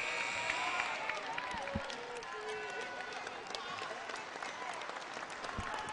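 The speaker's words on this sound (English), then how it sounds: "A round of applause" The crowd at a girls' high school basketball semifinal applauds as seniors leave the court, a steady roar of clapping and noise with a commentator talking over it.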